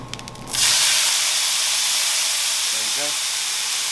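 Garlic hits a hot pan for chicken piccata, bursting into a loud, steady sizzling hiss that holds to the end, with brief faint voice-like sounds under it.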